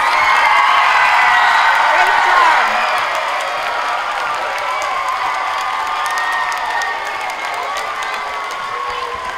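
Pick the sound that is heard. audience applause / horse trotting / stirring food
audience applause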